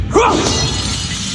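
A mirror image shattering into a thousand fragments, one sharp loud glassy crash with a sweeping burst that settles into a short fading tinkle, heard alone.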